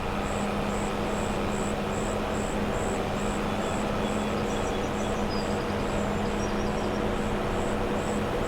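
A train passing in the Farming Simulator 25 video game gives a steady, loud rumble throughout, with a regular high beeping pulsing over it.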